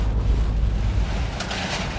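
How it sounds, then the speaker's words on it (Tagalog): Heavy rain and strong wind during a storm in Isabela, heard as a loud, steady, dense roar of wind buffeting the microphone and rushing rain, with no let-up across the stretch. "ganito kalakas yung buhos ng ulan at hangin"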